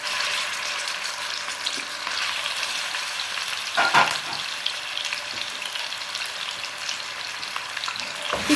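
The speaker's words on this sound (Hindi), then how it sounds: "हम चिकन को अच्छा सा फ्राई कर लेंगे जब तक चिकन का कलर चेंज ना हो जाए" Chicken pieces fry in about 50 grams of oil in a kadai, a dense, close sizzle and crackle that runs continuously, with an occasional stirring scrape and clatter and no talking.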